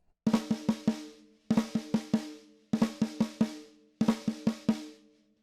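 Four identical bursts of snare drum, each a quick buzzed figure of about five strokes in a lilting triplet-like rhythm, played alone with short pauses between.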